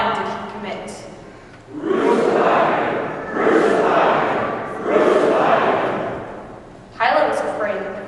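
At an outdoor passion play, a large crowd gives loud, surging shouts calling for Jesus to be crucified. The chanting rises in waves three or four times, with short pauses between them.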